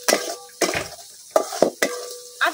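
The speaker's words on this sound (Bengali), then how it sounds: "এখন দিয়ে দিতেছি কিছু তেজপাতা, দারচিনি, এলাচ। সবকিছু আমি কিছুক্ষণ বাজা লইয়াম।" Bay leaves, cinnamon and cardamom fry in a pot over a clay stove, with several short, close stirring scrapes and clatters over a low background sizzle.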